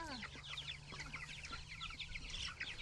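Farm chickens cluck and chatter steadily at close range, many overlapping calls with a constant low hum underneath and no talking.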